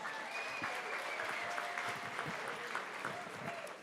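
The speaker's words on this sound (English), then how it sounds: "Give him a round of applause." A room full of people at a Habitat for Humanity fundraising gala claps steadily for a few seconds, dense and even applause at moderate volume with a faint murmur under it.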